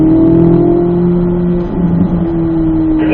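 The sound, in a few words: Corvette Z06 engine accelerating on a race track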